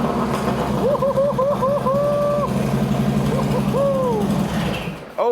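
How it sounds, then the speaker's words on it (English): A built 2025 Harley-Davidson Road Glide engine runs with a loud, steady low rumble for several seconds, then cuts out abruptly near the end. Voices sound faintly over it. "I literally want to see if this thing fires up"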